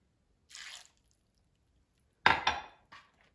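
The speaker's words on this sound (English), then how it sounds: "and add a 1/4 cup of water" Water poured into a microwave-safe dish holding asparagus, heard as a short splash followed by a louder burst of pouring and trickling, close and clear with no talk.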